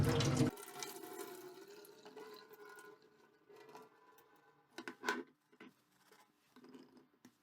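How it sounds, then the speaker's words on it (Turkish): Soaking water from green olives is poured off through a steel strainer, starting with a brief gush and then trickling and dripping in faint, uneven splashes with small metallic taps. "Şimdi zeytinlerimin suyunu güzel bir değiştireceğim."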